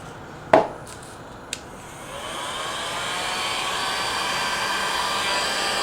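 A heat gun blows onto an iPod Touch 4th generation screen to soften the glue, a steady airy whoosh that starts after a sharp knock and a small click, then holds a constant level with no talk.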